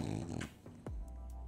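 A dog snores indoors with a rough, rattling inhale, then a short snort and a falling wheezy breath, heard close and moderately loud.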